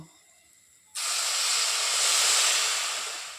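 Water hits a pan of frying spice masala with chopped green chili and cumin powder, bursting into a loud, sudden hiss of steam and sizzle that holds steady after a quiet start.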